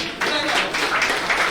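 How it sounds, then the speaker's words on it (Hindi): A crowd at a student felicitation program bursts into brief applause, a dense patter of clapping lasting under two seconds, with a voice underneath. "जोरदार तालियां।"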